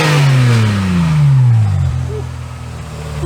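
A car engine without a sports exhaust fitted revs loudly up close, the pitch climbing then falling back before settling toward idle, with no voices over it.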